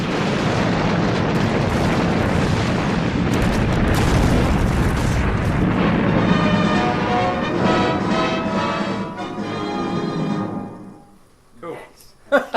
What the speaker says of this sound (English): Terrific explosion